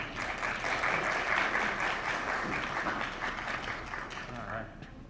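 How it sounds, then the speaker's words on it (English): A lecture hall audience applauding, a dense and steady patter of many hands that swells early, then fades toward the end. "Give a round of applause for people who actually do that."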